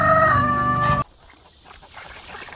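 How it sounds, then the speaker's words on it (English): Chickens on a Missouri homestead sound off near a coop: a loud, close burst of crowing and clucking for about a second, then scattered, quieter clucks that trail on. "Trying to get the chickens to go in."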